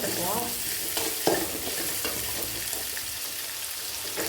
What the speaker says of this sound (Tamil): இஞ்சி, கருவேப்பிலை இதெல்லாம் இதில் போட்டுக்கலாம். இதை வதக்கி விட்டுக்குவோம்.